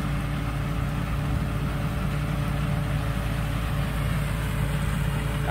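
Engine of a rice combine harvester running in a paddy field, a steady, continuous mid-to-low rumble with no change in pace and no talking.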